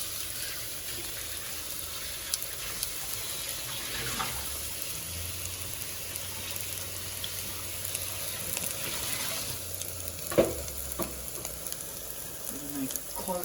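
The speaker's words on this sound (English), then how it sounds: "A nice close-up of them simmering." Sweet potato and tuna patties simmer in a pan, giving a soft, even frying hiss that stays quiet and steady, with a few faint clicks and a brief low rumble partway through.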